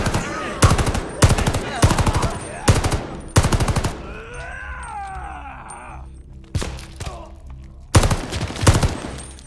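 Bursts of rapid automatic machine gun fire in the World War II shooter Call of Duty: Vanguard, loud and close, repeating in several volleys with a groaning voice and battle noise between them.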